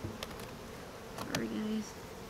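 Honey bees buzz during a hive transfer, a steady low drone with a few brief louder passes as individual bees fly close by, no talking.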